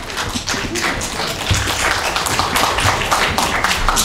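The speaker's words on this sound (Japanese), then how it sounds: "拍手です。" An audience applauds after a sign-language play, a dense patter of many hands clapping at a steady moderate level, continuous throughout with no voices on top.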